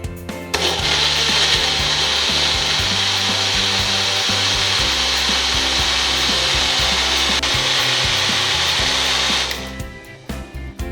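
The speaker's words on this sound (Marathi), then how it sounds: "ब्लेंडरला लावून मिक्सिंग करून घेऊया." An electric blender mixes mango juice with milk, a loud, steady whirring roar running for about nine seconds close by before cutting off, with no talk.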